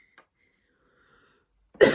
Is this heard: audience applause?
no